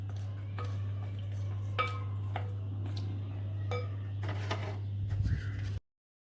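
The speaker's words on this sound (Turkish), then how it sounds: "şöyle ara ara karıştırıyorum" A spoon works through a mosaic cake mixture of broken biscuits in a bowl, making scattered light clinks and taps over a steady low hum, with no talking.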